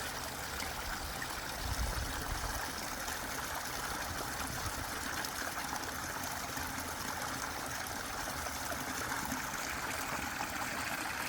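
Water pours steadily into an ecosystem pond as it fills and spills over, a continuous broad rushing wash that stays even and fairly close throughout.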